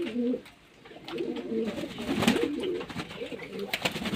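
Pigeons coo in soft, rolling low calls, several overlapping birds close by in a loft, with faint rustling and shuffling in the background.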